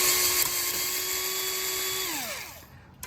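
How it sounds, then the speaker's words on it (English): A cheap power drill backing screws out of an aluminum door whines at a steady high pitch, then spins down with a falling tone as the trigger is released. "Also, I know this is a really crappy drill, but this is the one I've got on me right now."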